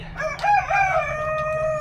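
A rooster crows in a farm poultry setting among hens, one sustained harmonic call rising and holding steady, loud and close, with a faint low hum running underneath.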